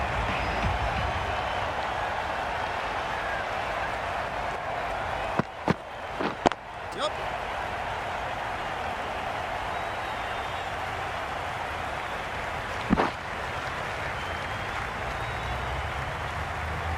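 At a West Indies vs New Zealand T20 cricket match, the stadium crowd keeps up a broad, steady roar of applause and cheering, with a few sharp knocks and slams, under a commentator's talk.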